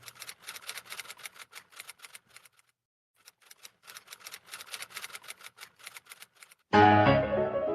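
Rapid, crisp keystrokes clatter in quick bursts with a short pause partway through, then a loud, different tonal sound cuts in at the end.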